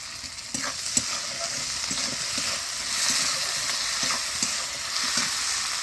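Chopped onion and tomato fry in hot oil with a little salt, giving a steady close sizzle broken by regular scraping stirs and an occasional utensil tap against the pan.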